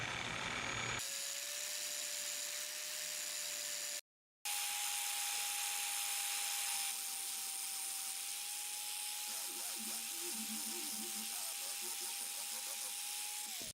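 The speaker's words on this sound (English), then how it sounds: "So I'm just gonna clean these up on this sander here." A bench sander fitted with 400 grit sandpaper whines at a steady high pitch while small bronze bushings are cleaned up on it, with a brief break partway through and faint grinding contact toward the end.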